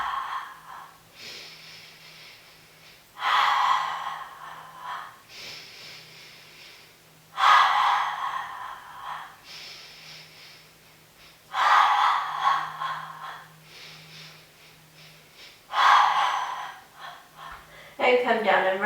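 Rhythmic forceful breaths during a Pilates hundreds exercise, sharp nasal exhales and inhales recurring about every four seconds, close and fairly loud, with a low steady hum underneath.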